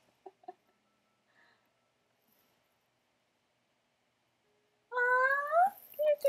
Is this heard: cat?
yes